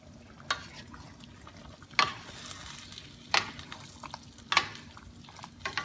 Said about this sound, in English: Let's give it a good stir again.